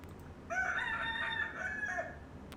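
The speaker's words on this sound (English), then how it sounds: "Or a rooster." A rooster crows once, a loud, drawn-out cock-a-doodle-doo close to the microphone, with a faint background hum.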